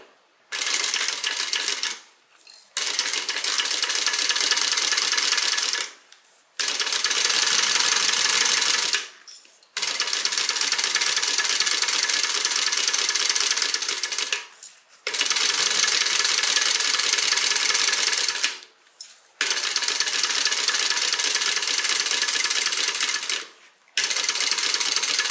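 A sewing machine top stitching a fabric bag runs in long steady bursts of rapid mechanical whirring, stopping briefly between runs about six times, close and loud.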